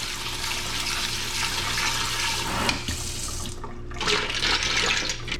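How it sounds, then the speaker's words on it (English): Cold water pours steadily from a tap into a pot, a continuous rushing splash that shifts slightly in tone partway through as the flow settles. "I'm gonna put a little cold water in as well."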